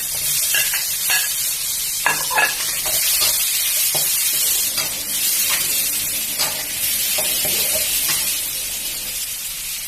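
Shrimp and pineapple are stir-fried over high heat in a hot pan, a steady loud sizzle broken by repeated scraping and tossing clatters of the spatula, with no talk.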